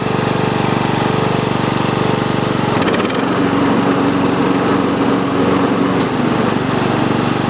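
A Sears LT1000 riding lawn mower running close by, a loud, dense engine roar; about three seconds in, the blades engage and the tone shifts to a steadier whirring drone that continues to the end, with no talking.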